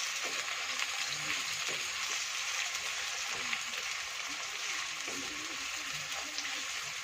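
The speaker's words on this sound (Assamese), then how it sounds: "এতিয়া ৰঙচুৱা হোৱাকৈ পিঁয়াজখিনি ভাজিম" Onions fry in a pan for a meat curry, giving a steady, even sizzle and hiss that runs unbroken throughout at a moderate level, with faint clinks now and then.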